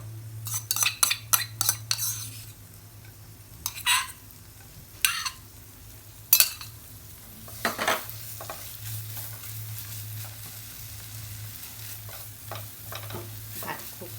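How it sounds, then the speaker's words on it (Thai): Garlic and onion stir-fried in a pan, with scraping utensil strokes and clinks in bursts over a steady low hum and soft sizzle. "ผัดกระเทียมให้พอหอมนะคะ ด้วยหอมใหญ่นะจ๊ะผัดคลุกเคล"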